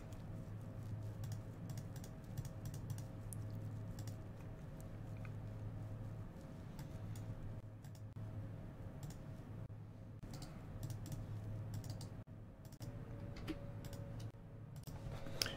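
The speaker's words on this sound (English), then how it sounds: "all this clicking is me updating the deck list" Rapid, irregular computer clicks and key taps while a Magic: The Gathering Online deck list is updated, soft and close over a steady low hum.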